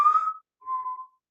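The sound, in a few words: distant whistling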